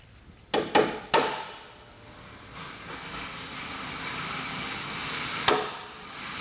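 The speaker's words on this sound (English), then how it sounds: "I'm going to use a punch just so I can mark the center of each one of those." Three sharp metallic taps of a center punch marking metal in quick succession, then a fourth strike a few seconds later, ringing against a low hum of background noise.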